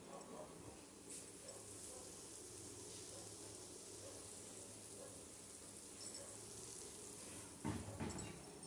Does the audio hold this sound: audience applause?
no